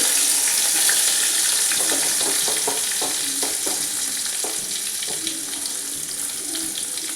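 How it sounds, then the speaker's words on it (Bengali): Coconut pieces fry with cumin and two dried red chillies in a pan, giving a loud, continuous sizzle close up, with repeated stirring scrapes and taps in the middle and no talking. "নারকেলগুলো একটু লালচে করে ভেজে নিচ্ছি"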